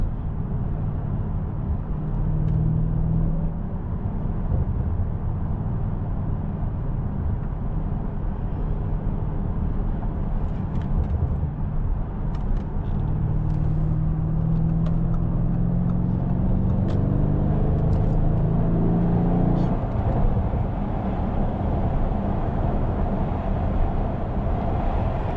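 A 2019-era Audi S7 cruises at night, its engine a steady low drone with rising and falling tones as it accelerates, heard from inside the cabin over road rumble.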